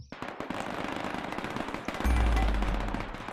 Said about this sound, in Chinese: 速射模式射速很快，但是范围不会缩小啊，就是在一片区域快速的进行轰炸